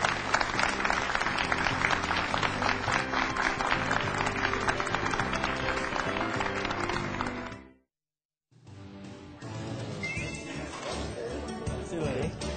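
Lecture-hall audience applauding a CEO speaker at the close of a talk, a loud, dense burst of clapping that cuts off into silence before quieter mixed sounds and talk resume.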